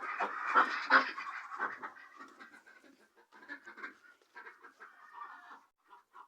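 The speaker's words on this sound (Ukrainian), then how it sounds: "так що пускаю качок" Domestic ducks being let out into a yard on a cold winter day give a run of close quacks and clucky calls, busiest at the start and then thinning to scattered calls with gaps.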